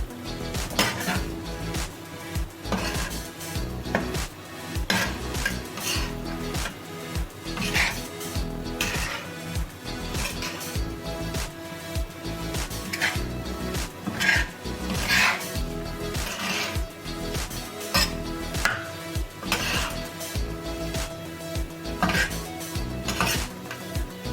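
Kata kat ingredients, crushed coriander and garam masala included, are stirred and scraped in a metal pan with a spatula, giving steady rhythmic clanking and scraping that stays close and prominent for the whole stretch.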